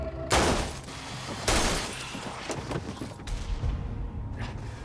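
Brutal gunfire breaks out in a gangster film scene at a church, with two sharp, loud blasts followed by a ragged burst of further shots and crashing impacts over several seconds.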